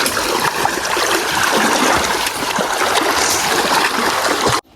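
Wading across a village river stream in Konkan: loud, close splashing and rushing water that runs continuously for over four seconds and then cuts off abruptly.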